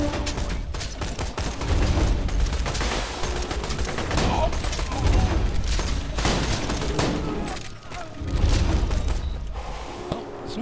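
A video game shootout fills the air with dense bursts of gunfire, rapid rattling volleys and heavy booms that rise and fall in waves, with no pause in the fighting.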